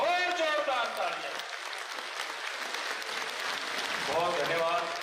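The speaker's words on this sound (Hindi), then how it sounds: "एक बार जोरदार तालियां और जोरदार तालियां।" Loud, sustained applause from a crowd at a BJP political rally, continuous clapping running throughout, with an amplified voice audible at the start and end.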